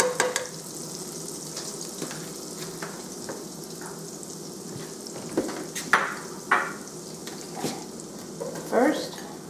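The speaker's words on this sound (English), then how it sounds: "So now we are just heating up all of the garlic here." Chopped garlic sizzles steadily in a hot pan, a continuous bright frying hiss with occasional clinks and scrapes of a utensil against the pan.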